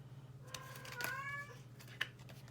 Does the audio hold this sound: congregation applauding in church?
no